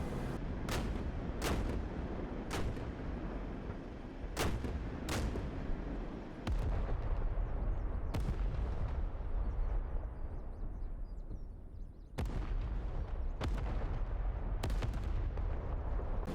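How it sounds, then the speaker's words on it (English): A German artillery battery outside Caen, France, 1944, in the DCS World combat simulator, fires a series of sharp, booming shots spaced irregularly over a low rumbling background. About a dozen reports come at moderate distance, with no talking. "we just got to locate where that German artillery battery is that's bracketing our guys"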